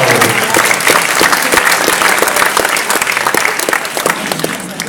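Loud, sustained audience applause for hypnotism show volunteers, a dense wash of many hands clapping close by that holds steady throughout.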